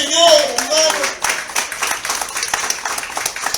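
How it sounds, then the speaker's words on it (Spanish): A church congregation claps in praise to the Lord, a steady run of fairly close clapping under a voice and music. "Denle un aplauso al Señor, hermano."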